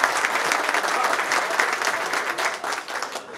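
Steady applause from a crowd at a municipal ceremony inaugurating a public pool in Artur Nogueira, dense, continuous clapping that carries on throughout, with a slight fade near the end.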